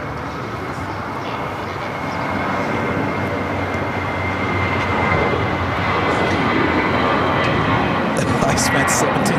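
United airliner arriving at LAX from Newark, a broad jet engine roar that swells and holds steady as the aircraft nears, loud and continuous with a few faint clicks near the end.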